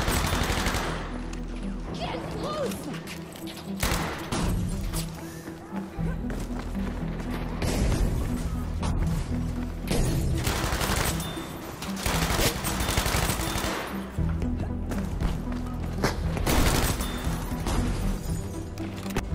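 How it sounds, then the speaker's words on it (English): Rapid automatic Tommy gun fire in a Battlefield video game, sustained bursts of loud gunfire mixed with game action noise and a steady underlying soundtrack throughout. "The AMXL with the Tommy gun is pretty much wiping the entire room here."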